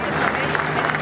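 Audience applause at a chamamé concert in Mburucuyá, Corrientes, following a song-and-guitar performance; a dense, steady wash of clapping from a crowd, loud and continuous throughout with no voices on top.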